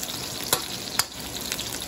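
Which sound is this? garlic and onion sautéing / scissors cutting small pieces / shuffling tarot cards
garlic and onion sautéing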